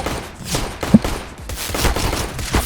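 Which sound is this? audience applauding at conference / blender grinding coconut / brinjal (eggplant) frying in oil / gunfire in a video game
gunfire in a video game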